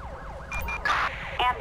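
Ambulance siren from the video game Grand Theft Auto V wails in rapid rising-and-falling sweeps, then shifts to sharper yelping tones, loud and close with no speech.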